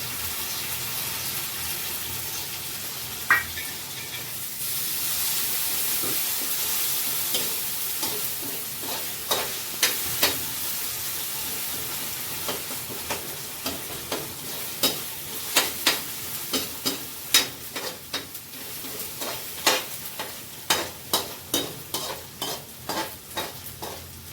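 Chopped tomato tipped into onions frying in a pan for a village-style Gujarati spiced rotla breakfast, followed by steady sizzling and a run of repeated spoon-scraping stirs growing louder and more rhythmic, with no talking.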